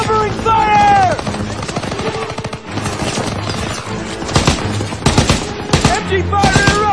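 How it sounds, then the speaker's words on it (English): Machine gun fire in the Call of Duty: WWII video game, with rapid automatic bursts and sharp shots that grow louder toward the end, mixed with shouted voices and battle noise. "MG fire erupted!"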